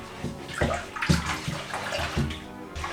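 Hot water gushes and splashes into a black bucket of dye in a steamy room, a steady, close pour with irregular sloshing surges.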